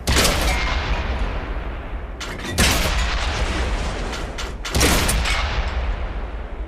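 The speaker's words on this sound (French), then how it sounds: "Je tire à la bourrin" In World of Tanks on Xbox One, three heavy tank cannon shots boom loudly in game audio, each followed by a long, dense rumbling tail that fills the clip, with no talking.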